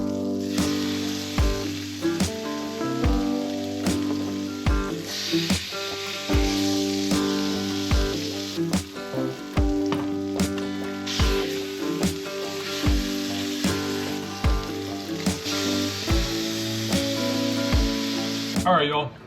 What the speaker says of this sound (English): we're gonna season up these fillets and throw them in our hot frying pan